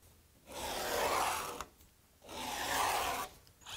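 A pencil or marker dragging along wooden sled runners for a table saw crosscut sled, two long scratchy strokes of about a second each, separated by a short pause, close and fairly clear.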